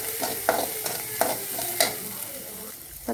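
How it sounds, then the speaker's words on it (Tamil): Finely chopped green chillies fry with onions in a pan for a vegetable bread sandwich filling, a soft continuous sizzle with about four rhythmic spatula scrapes close by, and no one speaking. "பச்சை மிளகாய் வதங்கிடுச்சு."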